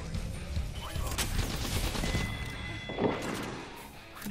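Shots from a single-fire gun in the battle royale game Apex Legends, a mix of cracks and distant bursts over a dense, steady battle din, with some speech underneath.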